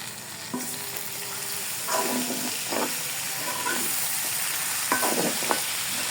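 Fried pumpkin, potato, yardlong beans and Malabar spinach sauté together in a pan, giving a continuous hiss with repeated scraping stirs in small bursts. The sound is close and there is no talk.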